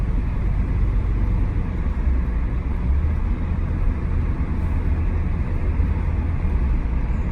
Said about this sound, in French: Et là maintenant elle a une perte de puissance